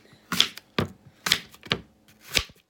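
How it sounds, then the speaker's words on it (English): A knife cuts up an apple for a lunch, with five or six sharp, separate chopping taps spaced unevenly, close and fairly quiet against a still background. "this apple gets cut up also"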